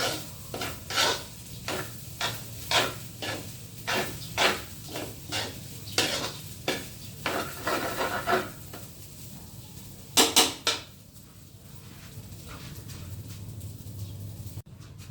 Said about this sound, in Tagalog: Yung dating luto, isangag natin tong tirang kanin kagabi